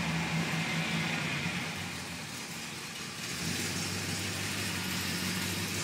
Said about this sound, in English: Go ahead and put it in drive and pull it up a little bit.